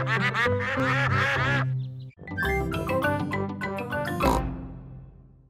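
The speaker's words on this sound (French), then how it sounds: "Dites au revoir aux canards, les enfants" Cartoon ducks from the French Peppa Pig picnic episode give a run of bright, loud, honking quacks, one after another with a brief pause in the middle, with no talking.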